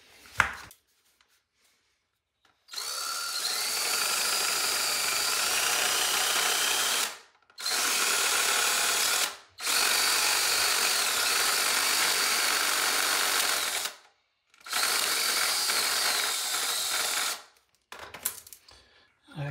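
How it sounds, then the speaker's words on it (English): A drill fitted with a router bit cuts into a toilet flange in several loud, sustained high-pitched whining bursts separated by brief pauses, close and harsh. "we're going to see if we can cut this with the drill with the router bit in it"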